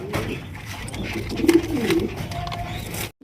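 Large pigeons kept for sale cooing close by, soft throaty coos in the middle of a moderately noisy space.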